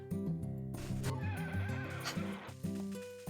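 A horse whinnies loudly in a long, shaky neigh, with music-like tonal sounds underneath, in the video game Harvest Moon: A Wonderful Life SE.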